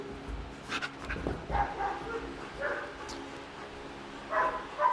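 During on-leash obedience training a dog gives scattered whimpers, yips and short barks at moderate distance, mixed with a trainer's spoken commands throughout.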